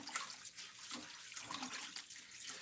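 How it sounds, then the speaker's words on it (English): Running tap water splashes as something is rinsed off under it: a quiet, steady close-up gush with small surging changes over a few seconds, with no talking. "let me wash this off"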